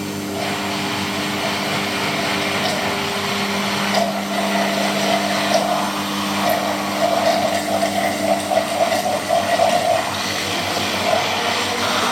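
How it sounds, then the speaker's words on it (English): A stick blender whirs steadily on low speed while mixing melted chocolate, a close, continuous motor drone with slight changes in pitch as it moves through the mixture. "we get the old stick blender out"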